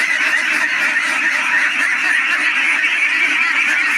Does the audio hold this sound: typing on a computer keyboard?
no